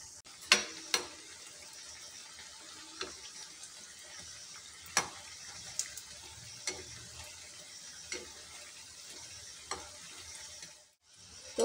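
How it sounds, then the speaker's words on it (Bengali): Evening snacks fry in oil over a low gas flame, giving a quiet, steady sizzle with scattered sharp ticks and clinks of a utensil every second or two, with no talking. "লাল লাল করে ভেজে নেব"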